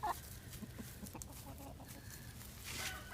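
Free-roaming chickens clucking faintly in the distance over a noisy outdoor background, with scattered soft calls and no one talking.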